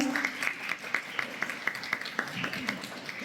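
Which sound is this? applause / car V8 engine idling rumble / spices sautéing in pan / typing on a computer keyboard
applause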